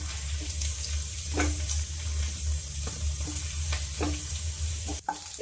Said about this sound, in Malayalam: 2-3 മിനിറ്റ് ഒന്ന് ഇളക്കി കൊടുക്കുമ്പോഴത്തേക്ക് ആ വെള്ളം എല്ലാം ജസ്റ്റ് ഒന്ന് വലിഞ്ഞു വന്നോളും